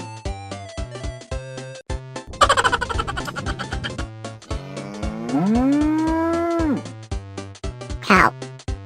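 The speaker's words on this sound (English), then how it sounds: "Cow." A cow gives a long, loud, low moo that swells and falls over about a second and a half, following a short noisy animal burst, all layered over an upbeat children's music track.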